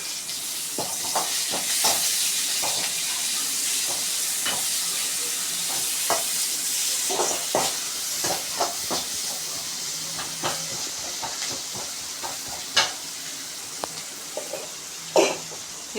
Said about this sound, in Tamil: கரண்டி வச்சு நல்லா வதக்கி விட்டுக்கோங்க